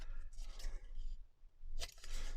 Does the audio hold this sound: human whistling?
no